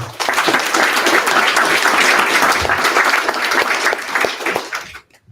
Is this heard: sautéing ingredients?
no